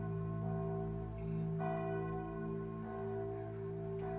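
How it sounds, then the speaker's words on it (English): Bell tower bells ring out steadily, their long sustained tones and humming overtones overlapping and sounding fairly loud and close throughout, with fresh strikes renewing the resonance. "our attention turned to the sound of the bell tower"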